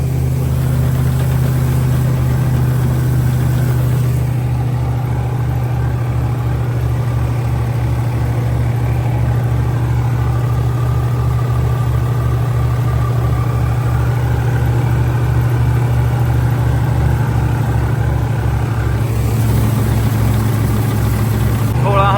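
A 16-horsepower tractor pulling a loaded trolley in a rain-soaked field, its engine a loud, steady low throb that keeps straining without letup, close by and dominating throughout.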